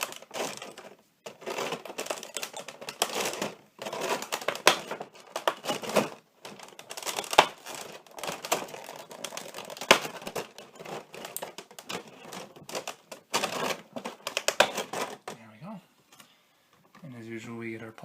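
Plastic packaging crinkling and crackling in dense bursts while an anime figure of Minami Kotori is unboxed, close and fairly loud, with a few brief pauses and a short stretch of voice near the end.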